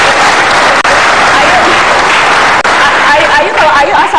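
A studio audience at an Indonesian television talk show bursts into loud, close applause, a continuous roar of many hands clapping, with voices mixed into the crowd noise.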